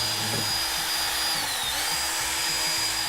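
A power tool whines steadily throughout, its pitch dipping briefly midway before recovering, fairly loud and close with no talking.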